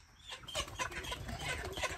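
Hens cluck softly in a short, quiet burst of several uneven calls, with no talking.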